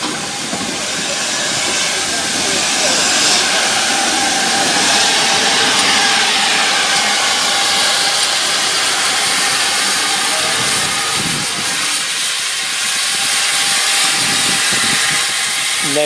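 A steam locomotive on the Kent and East Sussex Railway works at Bodiam station, close and loud, with a continuous roaring hiss of escaping steam and a rumbling engine that persists throughout, easing slightly near the end.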